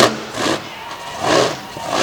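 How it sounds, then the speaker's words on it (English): A monster truck's 572-cubic-inch Hemi engine, mounted in the back, revs at an outdoor event in two loud surging bursts with a dip between them. The engine has a timing issue. "you can hear he's got a timing issue in that engine right now"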